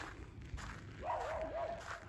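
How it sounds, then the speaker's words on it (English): A dog named Bingley gives a short yelp and a higher whining bark outdoors at a home in France, brief and moderately close, with faint background noise and no speech. "just started barking"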